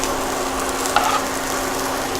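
Root vegetables fry and brown in a pan for corned beef hash, giving a steady, close sizzle with a faint hum underneath and one small clack partway through.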